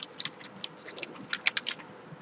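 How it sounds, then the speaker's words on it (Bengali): Quiet, irregular keystrokes on a computer keyboard as a keyword is typed, a short burst of light clicks with a couple of sharper taps, no talking. "আমি একটি কিওয়ার্ড লিখে দিচ্ছি"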